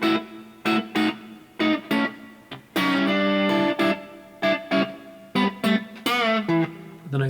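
Electric guitar playing a jazzy alternate solo lick from a song, short plucked phrases with distorted, effects-laden tone and a bent note, clear and alone without speech.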